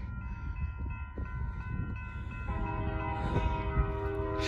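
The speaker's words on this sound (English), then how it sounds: "Saw this train over heading south before I got to." Union Pacific freight train passing on the Wagner subdivision, a steady rumbling roar with a sustained multi-tone horn chord joining partway through, heard loud and close without talk.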